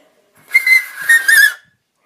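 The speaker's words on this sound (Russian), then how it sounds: "Получается такой очень громкий свист." A homemade whistle blown in one shrill, piercing blast lasting about a second, with a brief dip mid-way, very loud and close against silence.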